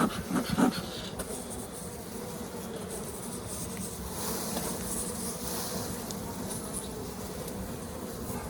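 Honey bees buzz steadily in a dense, continuous drone at an opened hive during a spring inspection, close and fairly even throughout, with a few louder swells near the start.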